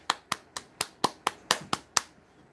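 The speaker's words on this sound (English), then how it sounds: "There's your clap, verdict." A single person claps nine times in an even, moderately quick rhythm, each sharp smack distinct and close, with quiet gaps between.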